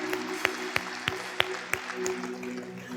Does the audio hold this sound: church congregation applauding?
yes